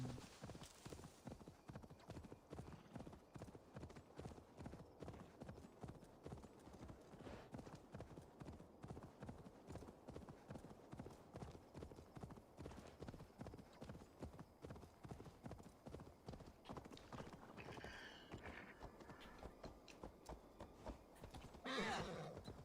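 A horse galloping in Assassin's Creed Valhalla, with steady rapid hoofbeats running throughout at a quiet level, a brief whinny or snort near the end.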